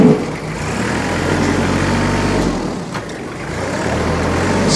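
A 2013 Kubota L3800 38 HP compact diesel tractor loader backhoe driving in first gear, low range, with a steady close diesel rumble and a slight dip in engine note partway through.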